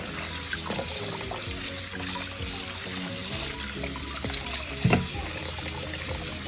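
Tap water runs steadily into a strainer while raw peanuts are rinsed, a continuous close splashing rush with a few brief clunks and rattles near the end and no talking.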